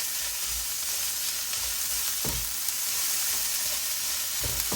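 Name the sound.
frying soya chunks with ginger, garlic and chili paste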